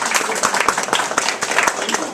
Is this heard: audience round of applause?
yes